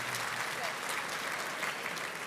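Applause from a gala dinner audience: steady, fairly soft clapping from many hands, sustained evenly throughout without pause.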